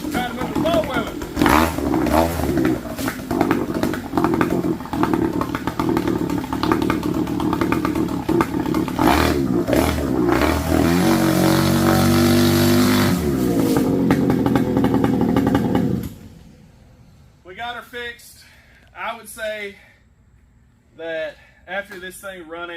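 A motorcycle-type engine runs roughly and revs with clattery mechanical noise for about fifteen seconds, then cuts out, leaving people talking nearby.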